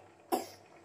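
A single sharp cough from someone who is unwell with a cold, sounding once at moderate volume against a quiet room, with no talk around it.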